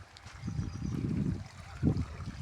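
Irrigation water runs through a farm field, a soft continuous gurgling trickle with a louder surge near the end, fairly close and without talk.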